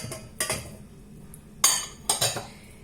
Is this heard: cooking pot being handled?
yes